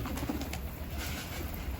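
Pigeons coo softly nearby, low throaty warbling calls repeating over a faint background hiss.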